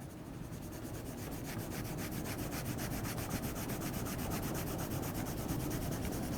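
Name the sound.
pencil shading with the side of the lead on paper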